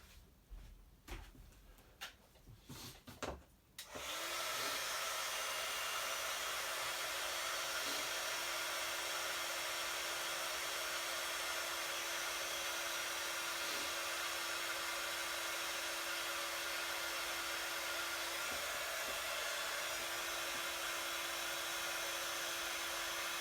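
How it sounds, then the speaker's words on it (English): A heat embossing tool melts white embossing powder on a stamped card: after a few quiet seconds of faint handling, a loud, steady blower whir starts and runs unbroken for about nineteen seconds, close up and alone. "Now I'm just going to go heat set this very quickly"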